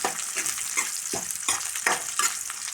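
Dried red chillies and grated coconut frying in hot oil with curry leaves, a steady close sizzle broken by several louder bursts of crackle and stirring scrapes.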